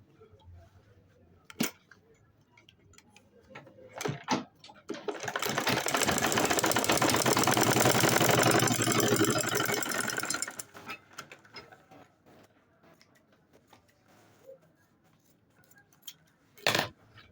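A sewing machine stitches a water bottle bag, a loud steady mechanical whir running for about five seconds in the middle, framed by scattered clicks, taps and handling noises.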